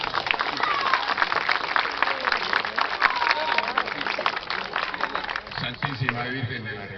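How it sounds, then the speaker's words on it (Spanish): Crowd at an outdoor Catholic procession for Our Lady of Reconciliation in La Molina claps together, a busy, sustained patter with voices mixed in, fading as a speaker begins talking near the end. "¡Palmas, hermanos!"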